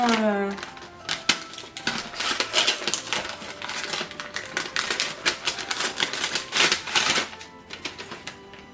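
Taped gift wrap rips and crinkles in a long run of quick, crackling bursts, close and fairly loud, with a brief voice at the very start.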